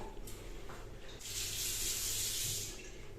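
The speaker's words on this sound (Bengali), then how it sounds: "হাত দিয়ে রাখো জল পড়বো" An automatic tap in a luxury hotel washroom bursts on and runs in a steady, hissing stream for about a second and a half before cutting off, close by and without talking.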